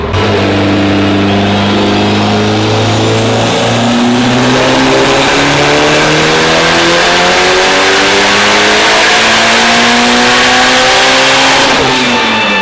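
A Mitsubishi Lancer Evo 9 engine on a dyno pull, loud and close, its note climbing steadily through the revs for about twelve seconds before dropping off abruptly at the end.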